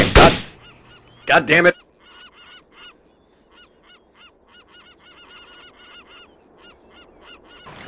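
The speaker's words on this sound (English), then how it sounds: "You can buzz around me all you want, but don't block my goddamn aim." Birds in the video game ArmA honk loudly near the player in goose-like calls, followed by a steady run of faint, repeated chirping honks as a man curses briefly.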